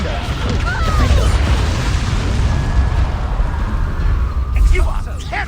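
Repeated Confringo blast spells explode in Hogwarts Legacy gameplay, dense booming bursts over continuous rumbling combat noise, with a brief sharp crash near the end.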